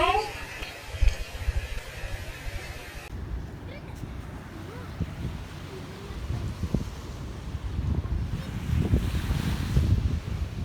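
Sea waves and wind at the shore on a breezy day while fishing, surf washing in and building toward the end, with gusty microphone wind noise and someone talking over it.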